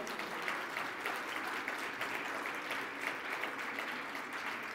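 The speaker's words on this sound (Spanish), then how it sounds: "pueden aplaudir por mientras a Play Digital" A conference audience at Digital Bank México 2023 applauds after a Play Digital presentation, an even, continuous wash of clapping that stays fairly soft and distant for several seconds.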